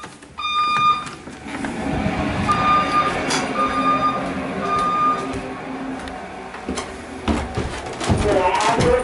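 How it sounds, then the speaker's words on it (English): A building fire alarm signal sounds as short, thin, repeated beeping tones over a noisy indoor background, with voices faintly present. "The signal you have just heard indicates a report of a fire in this building."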